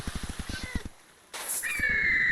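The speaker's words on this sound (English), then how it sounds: "Hello, little kitty." A cat meows in RLCraft, a Minecraft modpack, a drawn-out mew that comes after a run of quick footsteps and a short quiet gap.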